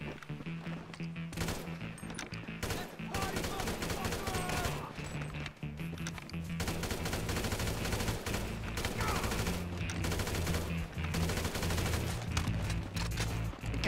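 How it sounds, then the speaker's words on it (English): Rapid gunfire in Grand Theft Auto V Online, with repeated bursts and volleys of shots cracking continuously across the scene, some close and loud, while players talk and shout over the shooting. "God, they keep shooting us."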